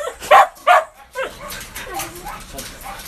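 A golden retriever barks twice in short, loud bursts close by, then whimpers and yips softly while a person talks nearby.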